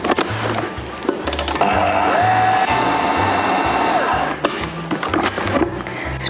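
Food processor whizzes orange cake batter with sugar and baking powder, a loud steady whirring over a rhythmic thumping beat, with no talking.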